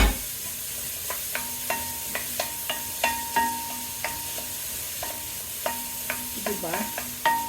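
Onions frying in a pan for chili con carne, with a steady soft sizzle and a spoon scraping and stirring in repeated irregular strokes, close and moderately loud, no talking.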